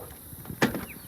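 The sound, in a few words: van door closing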